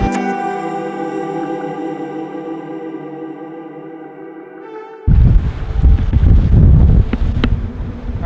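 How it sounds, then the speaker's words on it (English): Heavy rain and wind from Hurricane Douglas suddenly burst in as a loud, dense roar of rushing noise, cutting off a steady humming tone heard before it. "We are getting absolutely fucked by this rain here, so I'm gonna pack it up now"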